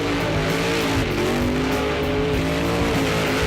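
A car doing a burnout at a New Zealand burnout championship round in Taupo, its engine held at high revs, loud and unbroken, with tyres screaming over a thick, steady roar throughout.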